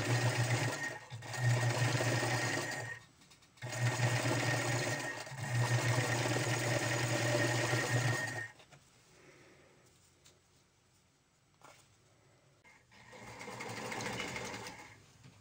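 Sewing machine stitching a knit sweater seam, close steady motor hum in runs of several seconds with brief stops, then a quieter stretch of handling the fabric before a final short run.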